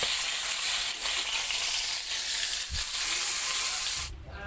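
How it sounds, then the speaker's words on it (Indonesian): Catfish pieces half-cooked in hot oil give a steady, loud, close sizzle with dense crackling that runs without pause and cuts off abruptly near the end. "ini mau aku goreng setengah matang aja supaya dagingnya nanti tetap lembut"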